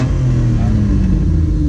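Hyundai Coupe (Tuscani) with a 2-litre engine running close by, a loud steady droning engine note with a sustained hum and slight rise in pitch, no clear talk over it.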